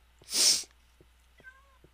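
A cat from the video game Minecraft gives a short hissy burst followed by a faint, brief meow, with quiet clicks in the background.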